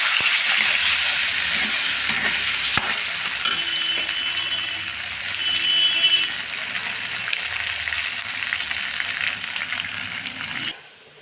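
A wet paste of ginger, tomato and dried chilli sizzles in hot oil as it is stirred, giving a continuous frying hiss with occasional utensil knocks, before the sound cuts off abruptly at the end.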